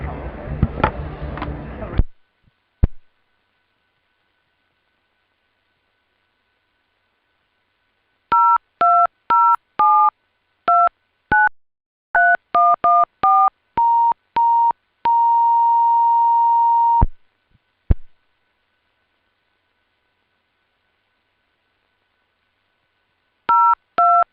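Telephone keypad tones dialing into an ISDN line for a live cricket broadcast link: a brief voice, then an irregular run of short touch-tone beeps, a sustained steady tone, and a few more beeps, loud and clear.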